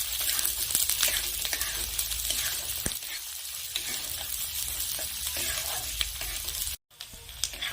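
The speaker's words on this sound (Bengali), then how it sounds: "এখন আমি কুচিয়ে রাখা পেঁয়াজ দিয়ে দিচ্ছি। পেঁয়াজও 2 মিনিটের মতো নেড়ে চেড়ে ভেজে নেব।" Chopped onions sizzle steadily in hot oil with ginger in a pan, with scraping stir strokes and occasional clinks of the spatula, close and continuous, no talking.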